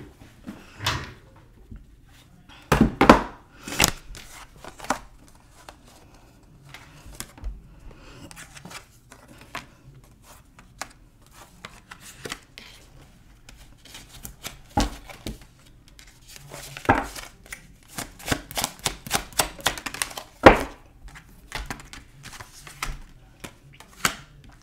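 Tarot cards are gathered up by hand in a dark room, with scattered soft slaps, rustles and light taps of card stock arriving irregularly and in brief clusters close by.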